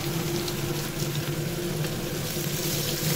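Spices and potatoes sauté in a hot pan for a Bengali tomato and potato curry, giving a steady, close, continuous sizzle and crackle with no talking.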